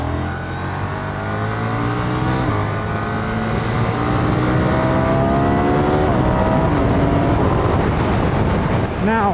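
A KTM 990 Duke motorcycle pulls away from traffic lights, its engine droning steadily and rising in pitch through the gears, loud and continuous with heavy wind rush throughout.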